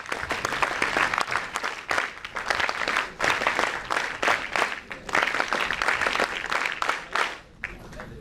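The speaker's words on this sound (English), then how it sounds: "Give a big hand to NSS contingent of Andhra Pradesh" Crowd applause for a state NSS contingent from Andhra Pradesh at a national integration camp inauguration in Delhi, sustained dense clapping throughout, loud and close, with a slight dip near the end.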